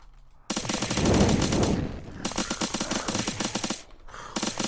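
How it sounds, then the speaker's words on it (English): Rapid SMG bursts from the Unturned video game, a fast rattling stream of gunfire in several sustained volleys with brief pauses between them, loud and close with no talking. "the SMG that we got from episode 4 inside the dead zone is really good"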